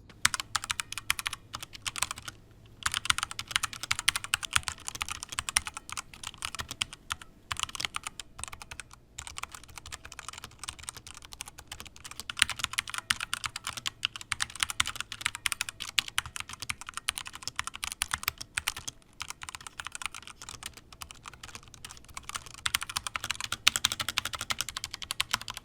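Typing on a keyboard fitted with homemade glued keycap mods gives a steady, fast patter of muted clicks, close and fairly quiet, with brief pauses and no talking.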